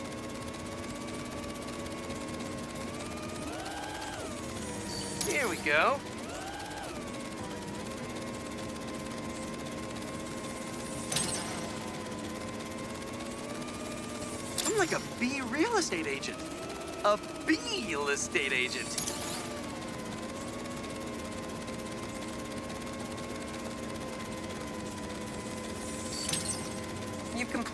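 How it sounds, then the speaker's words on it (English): A hovering drone in the video game Spider-Man 2 gives a steady, buzzing whine through the whole stretch, with brief whooshes and clanks, while someone talks over it. "The drone will self-pilot home and upload the data."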